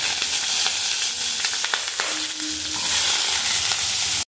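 Potatoes fry loudly in hot oil with a bay leaf and dried chilli, a dense close sizzle broken by a few stirring clinks, no one talking.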